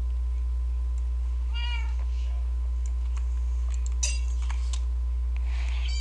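Minecraft cat meowing in the video game: a short, clear meow near the start and a few faint clinks, over a steady low electronic hum.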